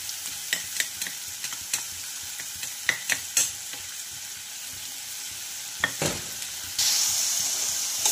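Crushed amla and jaggery being stirred together in a pan, a steady low sizzle broken by a series of sharp spatula scrapes and taps, with the hiss growing louder toward the end.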